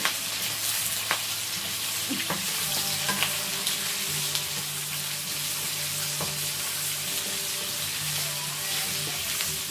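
Onions sizzling and crackling steadily in a hot stir-fry pan over high heat, with occasional sharp pops and scrapes; no talking.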